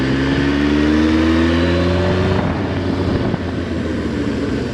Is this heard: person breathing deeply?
no